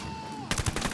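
Enemy gunfire in Ghost Recon: Wildlands: a quick burst of several close, sharp shots breaks in abruptly after a faint tone, rattling off in rapid succession.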